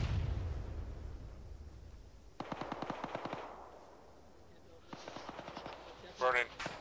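In Arma, bursts of rapid automatic gunfire rattle off at a distance in two clear volleys, each a quick run of sharp cracks, followed by a short burst of louder, closer noise.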